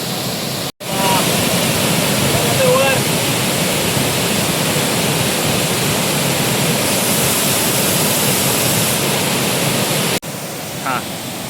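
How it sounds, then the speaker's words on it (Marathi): Chandranagar waterfall roars as a loud, steady rush of falling water, continuous and close throughout, with brief breaks at the cuts. "मजा घ्या धबधबाची"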